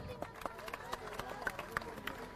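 An audience claps for kabaddi captain Pawan Sehrawat at a gathering in rural Delhi, a thin scattered patter of individual claps under someone speaking loudly over it.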